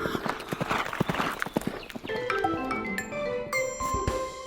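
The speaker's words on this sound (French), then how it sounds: "C'est le cheval gris qui galope la nuit." Horse hooves clip-clopping at a gallop, a quick, close rhythmic clatter, followed by bright sustained musical tones from a children's song.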